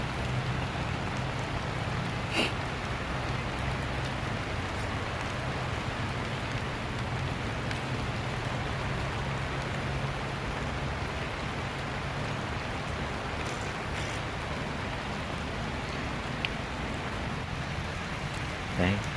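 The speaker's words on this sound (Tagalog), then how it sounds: "palakas yung ulan." Heavy rain pours down in a dense, steady roar, with occasional louder spatters and faint rumbles underneath, filling the space continuously.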